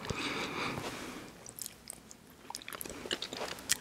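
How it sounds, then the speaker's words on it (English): Crunchy chewing of a McDonald's M&M McFlurry, a dense bite at the start followed by scattered close crackles and crunches of candy pieces, intimate and without talk. "Those M&M's are, make a great crunchy sound, right?"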